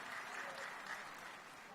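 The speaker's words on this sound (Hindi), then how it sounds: "एक बेर फिर जोरदार ताली से उनकर स्वागत करी।" An audience at the Maithil Samanvay Samiti 2017 event applauds to welcome a speaker. The clapping is dense, steady and sustained, from a large crowd, and fades slightly at the end.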